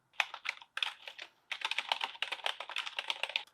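Fingers type on a thick, bulky all-plastic keyboard costing under $50, producing quick clusters of close, crisp key clacks with a brief pause early on, then a denser, steady run of keystrokes.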